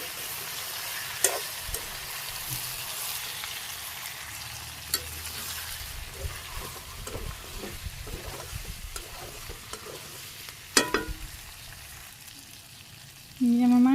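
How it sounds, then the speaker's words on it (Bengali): Meat stir-fries in a pan with garlic and onion in a Bangladeshi village kitchen, a low steady sizzle with scattered stirring scrapes and clinks, faint and close. "মাংসগুলো ভালোভাবে কষিয়ে নিই।"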